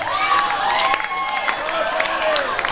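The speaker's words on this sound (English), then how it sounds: "Give them a massive round of applause." At a gala ball exhibition, an audience applauds dancers after a jazz foxtrot, with steady clapping and some cheering beneath sustained music and vocal tones.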